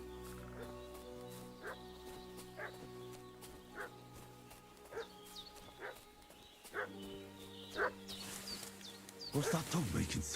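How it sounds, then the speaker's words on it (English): A dog in Kingdom Come: Deliverance II barks in single evenly spaced yaps at a middle distance over a droning medieval backdrop. The barking grows busier and louder toward the end, with a voice speaking over it. "What's that dog making such a fuss about?"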